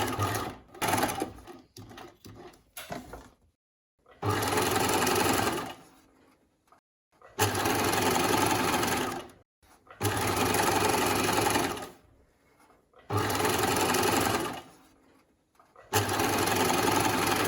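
A sewing machine edge-stitches fabric binding along a V-neck edge, running in three or four steady bursts of about two seconds each, separated by short pauses and some fabric handling noises, close and fairly loud with no talk.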